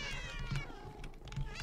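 A cat meowing in the Minecraft video game, drawn-out harmonic meows repeating close and clear over a continuous low game background, with no voices.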